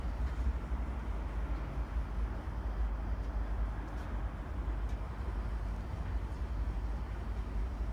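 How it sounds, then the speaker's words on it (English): A BNSF freight train rolling past in Puget Sound, a steady loud low rumble of railcars with continuous rattle and no breaks in the sound. "Then there's a freight train, BNSF."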